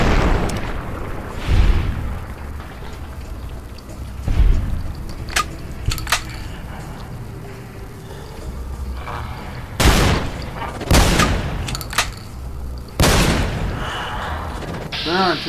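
Shotgun blasts from the game Fallout: New Vegas, several loud booming shots at irregular intervals, some in quick succession, over a low rumbling game background.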